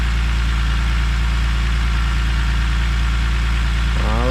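Car engine idling steadily right after a start attempt, following an air box redesign and an earlier failure, a loud, even low rumble with a constant hum close by and a brief shift near the end, no voices.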